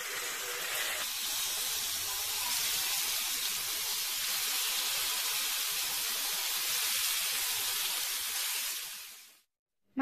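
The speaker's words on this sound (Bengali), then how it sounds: "মাছের সবগুলো টুকরো তেলের মধ্যে দিয়ে দিয়েছি।" Pieces of rohu fish fry in hot oil with a loud, steady sizzling hiss that holds evenly for about nine seconds, then fades out abruptly.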